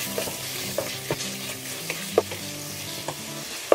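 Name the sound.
stirring garam masala into tomato masala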